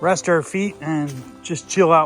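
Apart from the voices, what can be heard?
No everyday noises stand out.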